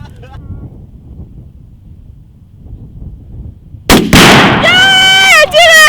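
A Southern Thunder exploding target detonates with a sudden loud blast after a quiet stretch, followed by a shout and excited voices over the ringing aftermath.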